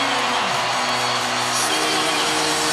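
Basketball arena crowd at a Stanford versus Kansas game, a loud dense roar of cheering and whooping that holds steady for a few seconds.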